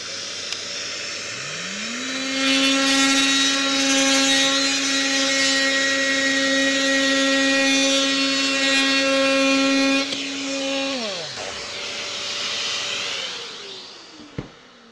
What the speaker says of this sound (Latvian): Un sūksim ar putekssūcēju.